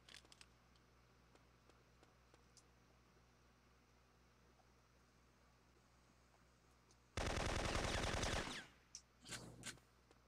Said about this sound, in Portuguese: Tiro gostoso esse tiro.